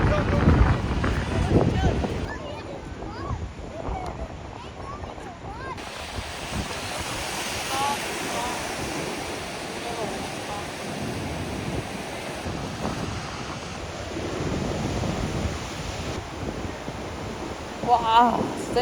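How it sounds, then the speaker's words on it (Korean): Ocean surf rolls and washes steadily at Hermosa Beach with gusty wind buffeting the microphone; a voice speaks now and then over the waves. "파도가 몰려오는데"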